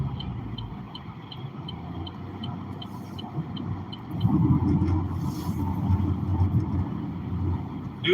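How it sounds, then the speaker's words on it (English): Steady low broadband road roar from a car cruising on new tires, growing louder and denser partway through, with faint ticking above and brief speech. "Do notice a little bit more road noise with these newer tires"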